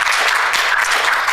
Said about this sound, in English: So give Tim a clap.